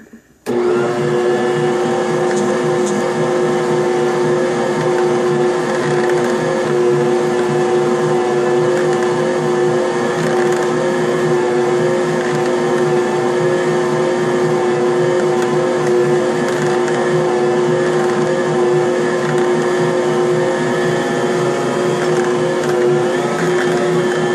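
A stand mixer mixes einkorn flour into dough, its motor holding a loud, steady whirring hum with a strong constant tone from start to finish and no talking.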